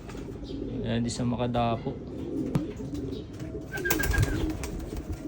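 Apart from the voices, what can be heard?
pigeons cooing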